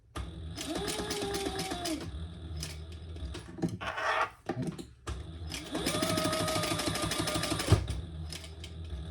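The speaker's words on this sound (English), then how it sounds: "we're going to stitch that on and pull those threads to the back" A sewing machine stitching a leather tag onto a leather wallet, two sustained bursts of rapid mechanical stitching with a whirring motor, separated by a short pause and some handling noises, close and fairly loud.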